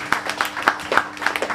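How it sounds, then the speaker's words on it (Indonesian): Hands clap in a quick steady rhythm, a group applauding together at moderate volume during a church worship service held in a cafe. "Tepuk tangan buat Yesus."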